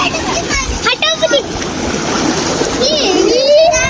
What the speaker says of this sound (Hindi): बच्चा पार्टी नहा रही है जी